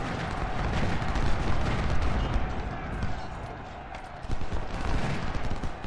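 12-pounder cannon artillery in a Civil War battle game: a dense, continuous rumble of booming fire and volleys that swells and fades, with someone talking over it.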